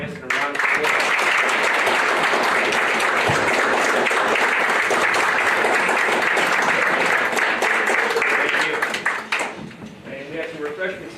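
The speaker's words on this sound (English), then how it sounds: "Please join us in a round of applause" An audience at a select board meeting gives a sustained round of applause, dense clapping that fills the room for about nine seconds before tapering off, with a few voices underneath.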